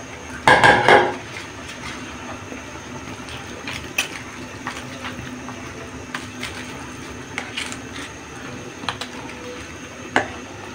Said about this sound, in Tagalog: Haluin natin, ibabaw natin yung ibang chicken at ilubog natin yung ating cabbage or repolyo.